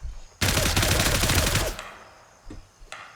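A short full-auto burst from a gun in Grayzone Warfare rattles off as a rapid string of loud, close shots lasting over a second, then fades out, followed by a couple of faint thuds.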